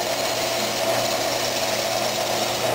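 Freshly sharpened Forstner bit boring into apple burl on a lathe spinning near 2,000 RPM, a steady loud grinding whir with a constant hum, continuous and unbroken throughout.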